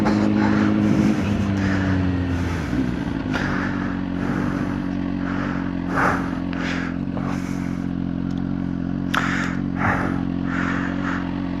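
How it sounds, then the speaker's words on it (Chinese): A CFMOTO 750SR-S motorcycle pulls hard at full throttle in second gear, giving a loud, steady engine drone with a brief pitch shift early on, all under heavy wind rush. "但是刚很明显看我2档是全灌"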